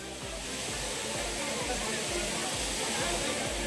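Water pours down the Courtallam falls where tourists bathe, a dense continuous roar that holds steady and loud from start to finish.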